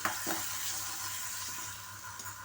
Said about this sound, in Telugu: ఇప్పుడైతే వచ్చేసి టొమాటోలు కూడా వేసేస్తున్నాను